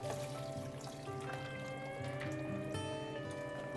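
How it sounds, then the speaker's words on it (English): Chicken broth pours into a pot on a kitchen stove, a steady liquid splash and trickle running without a break for a few seconds, up close, with no talking. "We're gonna put in about 3 cups of chicken broth."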